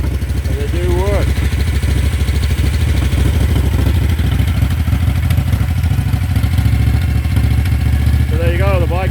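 A rebuilt Moto Guzzi Eldorado motorcycle engine idles with a steady low, throbbing rumble and light mechanical clatter, loud and close, with a few brief squealing chirps rising over it.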